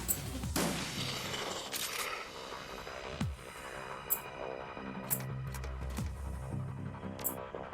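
Shotgun blasts in the Shadowrun Returns role-playing game come as sharp, isolated booms spaced a second or so apart over a steady humming backdrop, with little talk.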